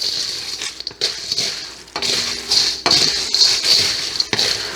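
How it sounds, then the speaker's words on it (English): Party snack mix stirred in a bowl, with steady scraping, rattling and clinking of dry pieces against the bowl, fairly close and loud for the whole stretch, with no talk. "you can take your mix and just start to stir it in"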